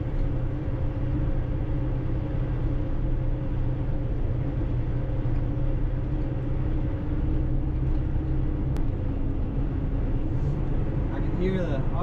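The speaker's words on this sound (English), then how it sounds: "I can hear the auxiliary fan kicking on that long incline back there." A Volvo 30-ton heavy-haul truck climbing a long incline through shaded woods, a steady low engine drone with a constant whirring hum like a cooling fan running throughout, under a voice.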